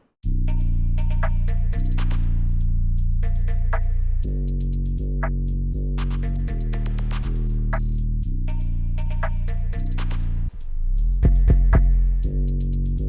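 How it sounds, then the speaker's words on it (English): A hip-hop drum beat with deep, booming 808 bass notes shifting pitch under crisp snares and hi-hats, steady and loud, no voices. "along with the 808s, the whole drum pattern together sounds like this"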